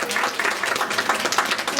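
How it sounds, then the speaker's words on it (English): A round of applause from a live audience honoring a woman married 41 years, a short burst of fairly loud, dense clapping that stays steady throughout. "Let's give her a round of applause."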